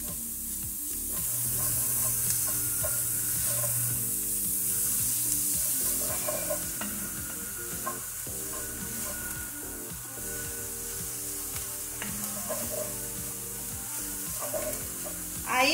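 Grated onion and carrot sizzle steadily in a frying pan, with a utensil stirring and scraping through them in repeated strokes, close and continuous.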